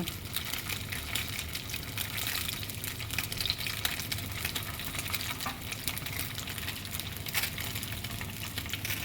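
Smoked salmon frying in a pan: a steady, fairly quiet hiss and sizzle of hot oil with small pops and crackles throughout, no voices.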